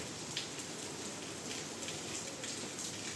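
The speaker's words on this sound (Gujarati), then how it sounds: "અત્યારે પાછો વરસાદ ચાલુ થઈ ગયો છે" Steady unseasonal rain falls continuously, a soft even hiss with faint scattered drops, moderately close and with no voices.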